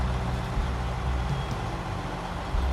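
A heavy truck in SnowRunner, set in Quebec and fitted with a high range gearbox, turns around with a loud steady diesel rumble that stays close and even throughout.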